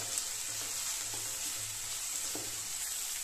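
Crushed garlic sizzles in a pan for a pea and mushroom curry, a soft steady crackle with a faint hum and light stirring taps.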